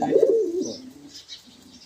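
A pigeon coos close by in a short, throaty burst that fades quickly, with no other sounds around it.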